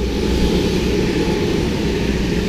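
A racing go-kart in a karting endurance race drifts past, its engine a loud, dense, continuous roar that holds steady throughout without a break.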